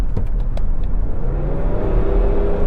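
Old Range Rover engine runs with a steady, loud, tractor-like diesel rumble and drone, close by and alone, with some faint clatter at the start.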